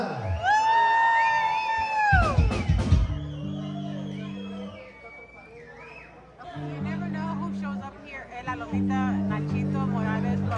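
A crowd shouting and whooping at a live conjunto music show, with a long loud yell at the start, then cheering and scattered shouts over sustained accordion-like tones and a voice.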